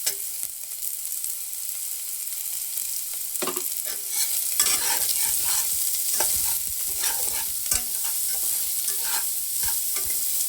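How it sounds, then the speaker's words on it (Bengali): Carrot and other vegetables frying lightly in a pan for poha: a steady close sizzle with intermittent scraping stir strokes, growing denser after the first few seconds, no talking. "তাহলে হালকা ভাজা হতে থাক"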